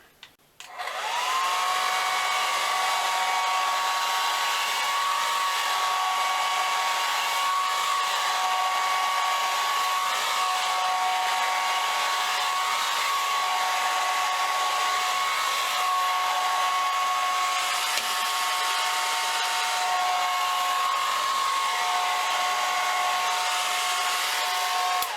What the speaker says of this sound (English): I have seen other artists using the snub nose of the dryer